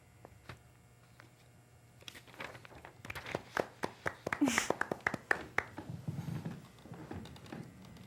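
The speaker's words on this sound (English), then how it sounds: "I've never been so self-conscious of clapping before" One person claps in a small room: sparse claps at first, then a quicker burst of sharp, close claps that thins out, with faint room murmur underneath.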